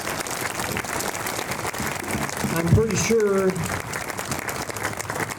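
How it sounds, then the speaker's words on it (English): Applause from an audience at an outdoor award ceremony in a park during a municipal band event, steady clapping throughout with a brief spoken remark over it midway. "Let's have one more round of applause for Jane."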